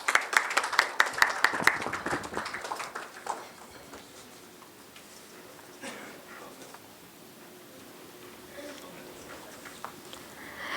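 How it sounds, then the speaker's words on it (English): A round of applause from an award ceremony audience, loudest at the start with sharp claps that thin out after a few seconds, leaving a quiet room with scattered sounds and a few late claps. "Please give them a huge round of applause"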